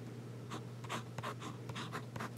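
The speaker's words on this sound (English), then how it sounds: "really writes well. And this is an extra fine nib" An extra fine nib fountain pen scratches across paper in a quick series of short, close, faint strokes, each a soft dry rasp separated by brief pauses, with a low steady hum underneath.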